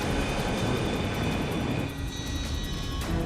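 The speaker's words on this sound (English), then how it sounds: "China Airlines Flight 120 is on final approach for landing." A China Airlines airliner on final approach for landing gives off a steady, loud, broadband roar of engines and rushing air that holds evenly throughout with no talk.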